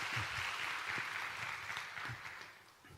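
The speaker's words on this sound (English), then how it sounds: "let us give our applause and the time to Steve" Quiet, distant audience applause for a keynote speaker at a Python conference, steady clapping that slowly fades toward the end.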